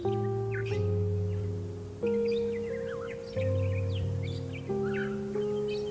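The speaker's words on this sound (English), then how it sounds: "The brown-throated conure" Brown-throated conures calling in a forest canopy, a series of harsh, buzzy squawks repeating in bursts every second or so, loud and close with fainter chirps of other birds behind.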